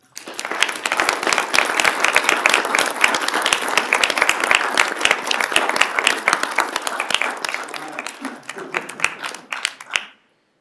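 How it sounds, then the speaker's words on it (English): A council meeting audience gives a loud, sustained round of applause with crisp individual claps, lasting about nine seconds before thinning to a few scattered claps and stopping abruptly. "Please join me in giving them a round of applause."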